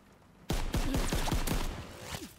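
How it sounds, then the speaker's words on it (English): Rapid gunfire in the video game Call of Duty: WW2 bursts in sharply after a quiet moment, a close fusillade of about eight quick shots that then trails off. "Jump over the railing and shoot him in the face."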